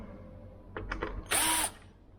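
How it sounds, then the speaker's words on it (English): Torx screws being backed out of a Jeep JL Wrangler headlight bezel with a power driver: a few short ratcheting bursts, then one louder sustained whir close by, with no talking. "you can see that there's actually 4 Torx screws over here, which you can remove, which I will go ahead to remove"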